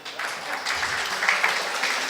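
Applause from an audience at a Hindi spiritual discourse, a steady patter of hands clapping for about two seconds, moderately loud and continuous with no break.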